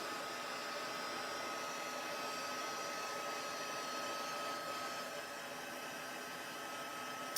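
A heat embossing tool warms up with a steady, even blowing whoosh, like a small hair dryer, held fairly close and running alone without a break.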